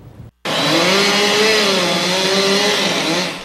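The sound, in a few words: chainsaws and wood chippers cutting trees along train tracks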